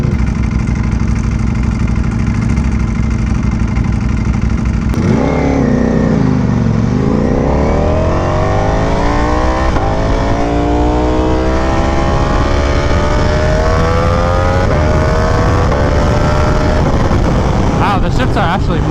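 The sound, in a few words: 2022 Ducati Panigale V4S motorcycle engine, riding in race mode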